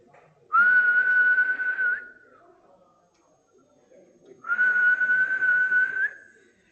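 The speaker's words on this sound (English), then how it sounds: "frequency with which I whistled is 1400 hertz" A person whistles a steady pure tone around 1400 hertz, two held notes of about one and a half seconds each separated by a pause, close and clear.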